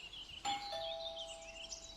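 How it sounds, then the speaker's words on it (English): A doorbell sounds once, a clear two-tone ding-dong chime that rings out and fades slowly in a quiet room. "Maybe we should ring the doorbell."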